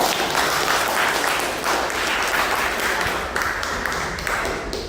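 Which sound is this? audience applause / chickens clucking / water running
audience applause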